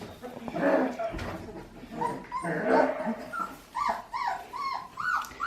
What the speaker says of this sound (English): That one barking over there is Erik, I think.